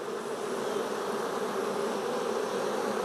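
Honey bees buzz steadily in an open beehive during a swarm-cell inspection, a dense, close, continuous hum with no pauses and no voices.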